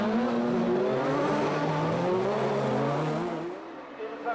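Rallycross race cars, including a Peugeot 206, roaring loudly as they race at a European Rallycross Championship round in Germany, engines wailing and shifting pitch continuously before easing slightly near the end, with a commentator's voice faintly under the din.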